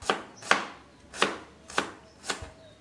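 A knife thinly slices shallots and garlic on a cutting board, giving five crisp, evenly spaced chops about half a second apart, close and clear with no talking.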